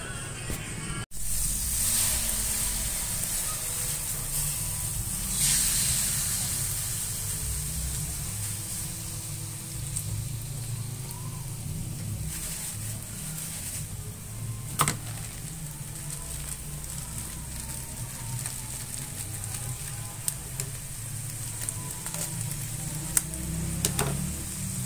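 Coconut milk sizzles steadily while latik cooks, a constant frying hiss with occasional faint ticks and one sharp knock partway through.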